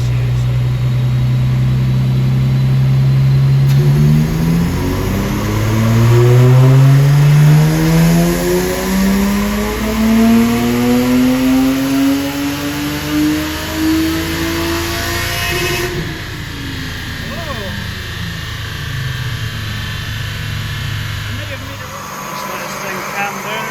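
A Lexus IS200 on a dyno pulls hard through the revs, its engine note climbing steadily and loudly for several seconds before lifting off and dropping away, with a voice heard over the idle.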